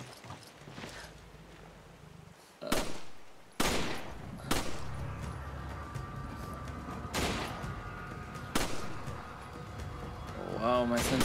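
Rifle shots in the Resident Evil 5 video game crack out as several sharp, separate reports spaced a second or two apart, mixed in with game sounds and people talking.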